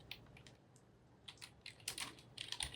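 Code being typed on a computer keyboard, soft irregular key clicks close by, sparse at first and then quickening into denser bursts of keystrokes.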